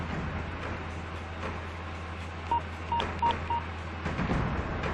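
Several short telephone keypad tones beep one after another while a number is dialed to reach a bank's customer care line, heard over a low steady background hum.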